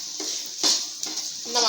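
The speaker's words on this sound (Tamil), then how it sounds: "அதையும் சேர்த்து நல்லா கலந்து விடுங்க" A spoon scrapes and stirs milk powder, milk, ghee and powdered sugar in a pan over a low flame, giving a few short soft strokes in quick succession.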